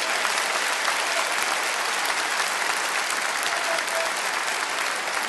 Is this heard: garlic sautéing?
no